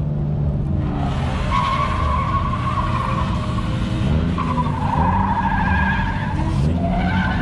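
A car drifting at Memphis International Raceway, sustained loud tire squeal and skidding over a revving engine, continuous throughout with shifting pitch as the car slides.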